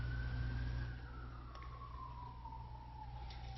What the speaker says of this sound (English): Hear that siren?